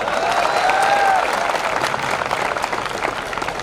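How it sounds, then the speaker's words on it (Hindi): An audience at a spoken stage performance in Khandwa breaks into sustained applause, a dense wash of clapping that stays strong, then thins slightly while carrying on. "ताली बजाओ ढंग से"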